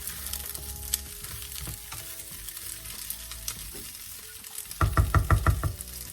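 Vegetables frying with onions and anise seeds in a pan, a soft continuous sizzle broken by clinks and scrapes of stirring, ending in a quick run of loud rhythmic knocks against the pan.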